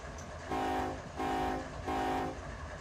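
Three evenly spaced horn blasts sound from ES44 diesel locomotives in the Run 8 train simulator, each lasting about half a second over a low, steady engine rumble.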